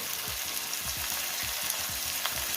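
Vegetables sauté in a pan with a little salt and turmeric powder, giving a steady hissing sizzle with soft rhythmic stirring thumps underneath, close and even, with no voices.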